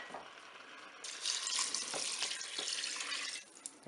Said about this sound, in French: Maintenant, je vais ajouter mon eau.